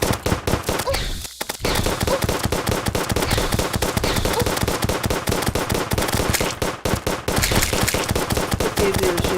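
Rapid gunfire from the video game Terraria rattles on almost without a break, loud and dense, with one brief pause near the start before the shots resume.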